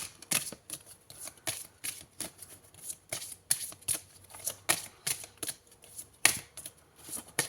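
Tarot cards shuffled by hand in repeated quick riffling bursts, close and crisp, with a steady rhythm throughout and no talking.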